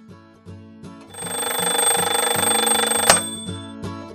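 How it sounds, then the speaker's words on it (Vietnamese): A cartoon alarm clock rings loudly and continuously for a couple of seconds over light background music, then stops with a sharp accent. "5 phút nữa, chuông báo thức kêu thì con phải dậy đấy nhé"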